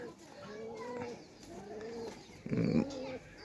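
A pigeon held close by gives a few soft, throaty coos, low and rolling, while a voice talks quietly alongside.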